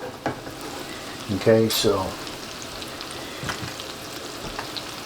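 Mushrooms sizzle and fry in butter and olive oil in a pan, a steady soft crackle running under brief talk throughout.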